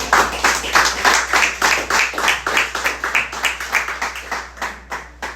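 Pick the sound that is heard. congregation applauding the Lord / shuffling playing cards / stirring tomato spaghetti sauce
congregation applauding the Lord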